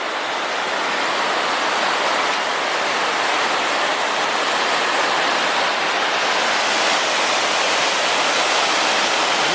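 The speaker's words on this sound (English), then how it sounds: "this would be Whitewater Falls" Whitewater Falls on the Foothills Trail pours in a loud, unbroken roar of rushing water, heard up close with no voices.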